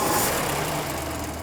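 A classic car with an updraft carburetor idles smoothly and steadily, a close, even low rumble with no voices.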